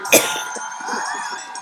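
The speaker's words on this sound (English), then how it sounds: "I've still got a cough" One short, sharp cough from a person sounds near the start, followed by a softer, steady tonal hum that carries on to the end.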